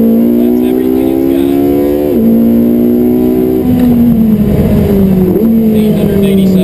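A Spyder sports car in race mode accelerates hard from a launch with the tires briefly spinning, its engine roaring loud and close inside the cabin, pitch climbing and dropping at each gear shift, with occupants' talk mixed in.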